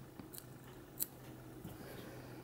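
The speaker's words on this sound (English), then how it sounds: "come in with your scissors and you can just" Small scissors trimming CDC fibers on an X-Caddis dry fly at a fly-tying bench, giving a few faint, quiet snips spaced apart in near silence.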